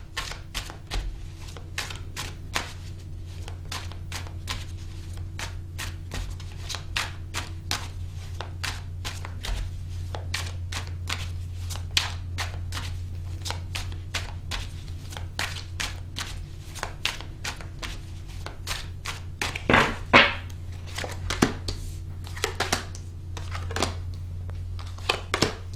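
Tarot cards being shuffled and pulled, with a long run of quick crisp card flicks and taps over a steady low hum, busier toward the end.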